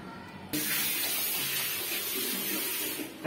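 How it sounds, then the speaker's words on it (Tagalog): Water rushes steadily from a household pressure pump line, a loud continuous spray that starts abruptly and runs without pause to the end. "Okay, tubig natin yan."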